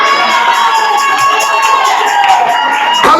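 A church congregation cheering and acclaiming loudly, with a dense crowd of voices and high shouts sustained throughout without pause.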